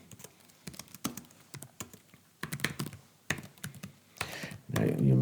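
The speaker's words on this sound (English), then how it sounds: "I quickly type some of this out again" Rapid clicking keystrokes on a computer keyboard while someone types Python code into an interactive shell, in uneven bursts with brief pauses, close and fairly quiet.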